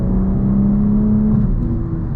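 A 2024 BMW M2 or M240i running on E30 fuel pulls smoothly on low-end torque, its engine a steady, fairly loud droning hum with a slight rise in pitch toward the end and no talking.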